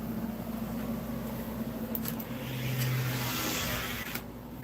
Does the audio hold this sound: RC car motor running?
yes